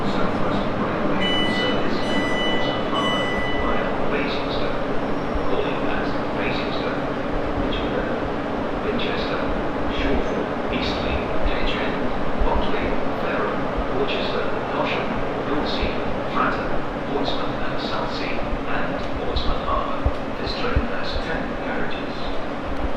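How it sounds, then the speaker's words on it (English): A train runs steadily through Farnborough Main station on the South Western Main Line, a loud continuous rumble and rail roar with high squeals and clatter, with voices talking over it throughout. "Not the quietest train in the world."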